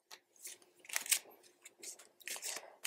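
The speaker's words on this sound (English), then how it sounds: "First things first, let's give them a shuffle." Laminated, oddly shaped cards being shuffled, with a series of close, crisp flicking and riffling bursts in irregular rhythm and no talk.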